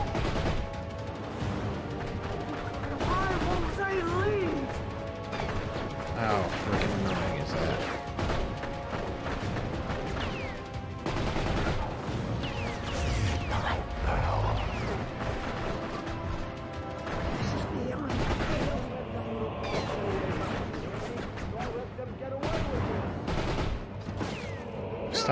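Dense gunfire in The Darkness video game, with rapid bursts of shots, crashes and metallic impacts layered under music and game noise, loud and continuous throughout.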